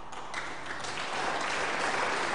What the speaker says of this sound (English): crowd are clapping